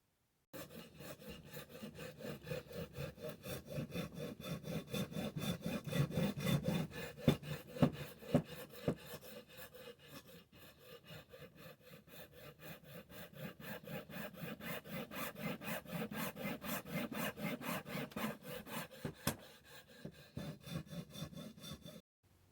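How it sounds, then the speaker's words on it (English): A hand file rasps back and forth along a plastic edge in steady, rhythmic strokes, close and fairly quiet, with no talking over it. "Normally wouldn't do this as it blunts a file, but it's only plastic"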